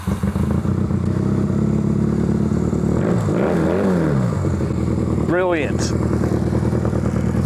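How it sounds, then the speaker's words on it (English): Carburetted motorbike, sitting unused for months, cranked with a bit of choke until it catches and runs, the engine rising and falling in loud revs close by, with someone speaking briefly over it. "Starting up bloody carby bikes when they've been sitting for, I don't know how long it's been"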